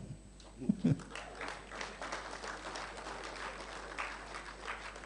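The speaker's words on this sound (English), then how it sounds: "The audience, you may clap now." Audience applause at a youth presidential debate in Nigeria, a continuous bed of many people clapping at moderate distance, with a few louder thumps near the start and faint voices underneath.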